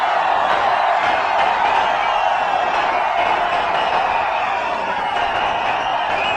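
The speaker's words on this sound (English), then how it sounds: "Crowd loves it." Cricket crowd at an India vs Australia match roaring and cheering continuously, a broad, steady wash of massed voices filling the stadium at a constant loudness throughout.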